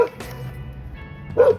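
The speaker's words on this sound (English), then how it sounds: "you hear the barking" A dog barks somewhere in the background during cement work, with a couple of short barks standing out near the start and again louder toward the end over low room noise.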